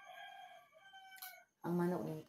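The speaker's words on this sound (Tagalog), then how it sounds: "Ang manok ning tugaok na" A rooster crows loudly and close by in one full, harmonic call that fills the last second, after a fainter earlier stretch of tonal crowing.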